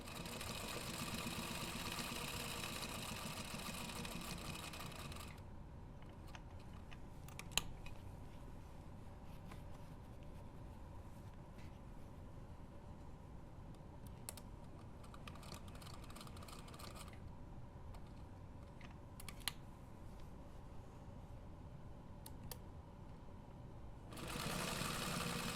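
Sewing machine stitching a pocket onto a fabric road trip bag, a steady close motor whir with rapid needle chatter running throughout, briefly louder at the start and end.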